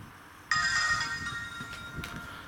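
A mobile phone plays its shutdown tone as it is switched off, one bright electronic chime that starts abruptly, rings on and fades over about two seconds, close and clear with no talking.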